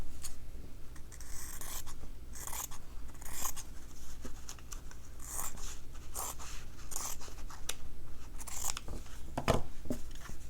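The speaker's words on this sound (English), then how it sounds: "I'll just cut out my background fabric" Scissors snip repeatedly through fabric backing for a slow-stitching project, a run of close, crisp cuts and rustles coming in bursts across a quiet room.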